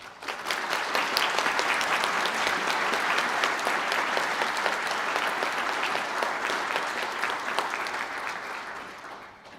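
Sustained audience applause for graduates at an indoor graduation ceremony, a dense wash of many hands clapping steadily for several seconds before tapering off near the end.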